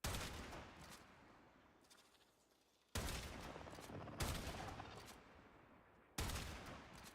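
Gunfire in the video game Warframe, shooting at a group of level-200 enemies: several abrupt blasts, each trailing off into a long, fading rumble, fairly quiet overall.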